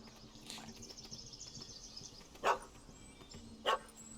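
A dog in The Witcher 3: Wild Hunt – Hearts of Stone gives two short, distant barks about a second apart over quiet outdoor game ambience with faint bird-like chirps.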